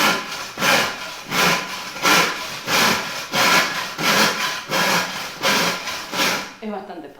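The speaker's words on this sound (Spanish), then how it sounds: "Ya hice una primera marca que es la más difícil siempre de marcar con el serrucho" A hand saw cuts through wood for concrete formwork, its strokes a steady, close back-and-forth rasp of about a dozen passes before stopping.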